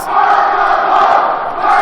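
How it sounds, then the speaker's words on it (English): A wrestling arena crowd at an RWA show roars and chants in unison, a dense sustained wall of voices that stays loud and steady throughout. "Do you hear this crowd? They are chanting "Welcome Home,""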